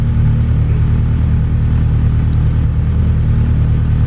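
A Honda Civic EK hatchback with a B18 VTEC engine runs on a dyno, giving a loud, steady, close engine drone with heavy low rumble that holds constant without any talk.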